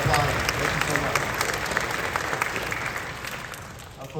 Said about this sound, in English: How about a round of applause to those on the stage? That's right, we're all applauding.